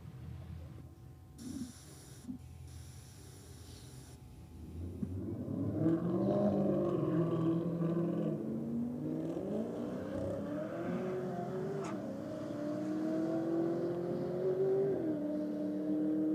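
Area 51 Custom Performance Holden Statesman, purging nitrous, and a Ford Falcon ute in a roll drag race; loud engines rise from idle into a sustained revving pull with climbing gear tones, close and continuous.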